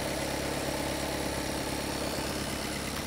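A 2016 Volkswagen Passat 1.6 engine idles smoothly and steadily, a low continuous hum with faint vibration and no voices.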